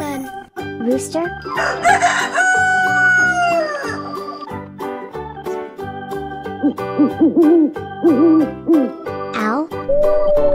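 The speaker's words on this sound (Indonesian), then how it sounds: "Owl." An owl hooting in a few clear, repeated calls over light background music, near and prominent.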